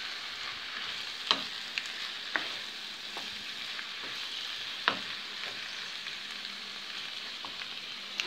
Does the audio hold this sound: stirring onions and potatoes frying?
yes